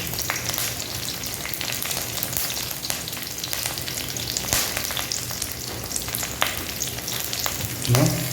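Chopped onion and curry leaves frying in oil in a pan for a green bean stir-fry, a continuous dense sizzle with scattered crackles and occasional scraping stirs, close and steady throughout.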